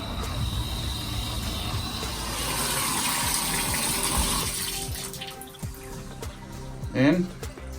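A repaired shower faucet runs water in a steady, rushing gush that fades after a few seconds, followed by quieter clicks and handling noises and a brief louder knock.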